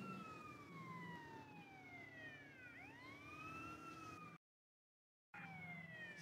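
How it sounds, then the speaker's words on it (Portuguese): A police siren from a Brazilian police roleplay video game wails in long sweeping rises and falls, loud and close, cutting out abruptly for about a second before resuming. "Pegar sirene."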